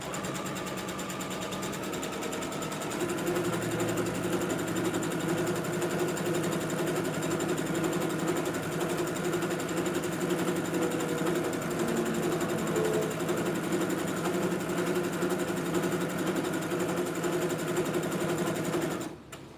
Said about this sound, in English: I'm gonna run another easing thread. It takes 2 easing thread to run it properly.